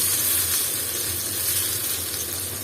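Laitta fish sizzling in well-heated oil in a pan, a steady close, loud crackling hiss that runs unbroken throughout with no voices.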